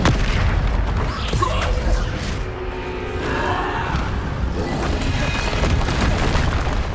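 Bombarda spell explosions in Hogwarts Legacy, a dense, continuous booming roar that fills the whole stretch at steady loudness, with no clear separate blasts standing out.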